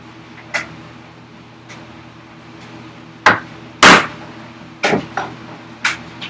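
Sharp, close hammer blows drive a chisel into wood while chopping vise chops at a workbench, a handful of irregular knocks with a few louder strikes in the second half over a steady low hum.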